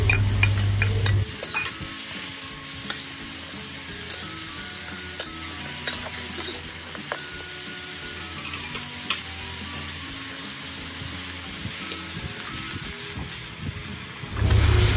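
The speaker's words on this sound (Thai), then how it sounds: "ตามด้วยแครอทเราจะใส่แครอทลงไปก่อนนะคะแครอทจะสุกยากจากนั้นใส่ข้าวโพดอ่อนค่ะและบรอกโคลีค่ะ" Carrot, baby corn and broccoli stir-fried in a pan, with a steady close sizzle and repeated stirring scrapes and clinks throughout, and no talking.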